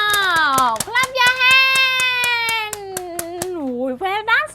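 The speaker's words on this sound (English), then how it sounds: "You know how to clap your hand." A young boy claps his hands during an English letter-sound lesson: a string of sharp, close claps in a steady rhythm under an adult's sustained, sing-song voice.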